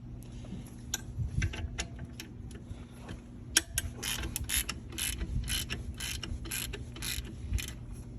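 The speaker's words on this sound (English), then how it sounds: "in order to loosen the old belt out, you're going to want to crack this 12mm bolt right there" A ratchet cracks loose a 12mm bolt on the serpentine belt tensioner of a Toyota Corolla 1.8L 2ZR-FE, producing close, repeated clicking bursts in an irregular rhythm over a faint steady hum.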